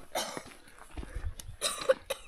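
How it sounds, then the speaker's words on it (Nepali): Coughs from trekkers on a flat mountain trail past Chandanbari on the Gosainkunda trek, a few rough bursts spread through the clip, moderately close and fairly faint, with footsteps and open-air background. "कोही खोक्दैछन् कोही"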